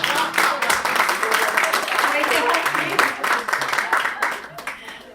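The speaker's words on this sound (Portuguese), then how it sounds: "querem aplaudir, por favor?" Audience applause at a talk given at a gathering, a steady dense patter of many hands clapping throughout with voices mixed in.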